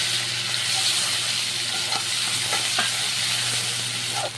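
Chopped onion hits hot mustard oil already seasoned with cumin, cardamom, cinnamon, dried chili and bay leaf, sizzling loudly and steadily while a spatula scrapes and stirs with a few distinct knocks against the pan.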